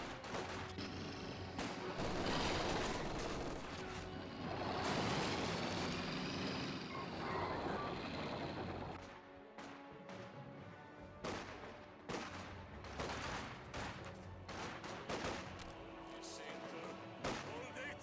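Units in the real-time strategy game Company of Heroes 2 exchange fire during a battle: rumbling vehicle and artillery noise gives way to repeated sharp gunshot bursts and machine-gun rattles, with a commentator's voice heard at times.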